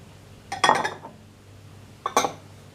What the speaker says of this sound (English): I'll be using my hands on the later stage to knead my dough, but for now I'm just going to use a wooden spoon.